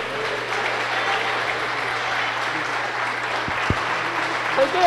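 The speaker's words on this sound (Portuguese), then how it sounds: "aplaudam ao Senhor" Church congregation applauding together in a steady, dense wash of clapping that fills the room, with no speech over it.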